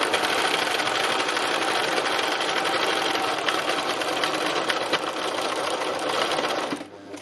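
A sewing machine runs steadily at high speed during free machine embroidery, a continuous close whirring buzz moved up and down over the fabric, stopping abruptly near the end.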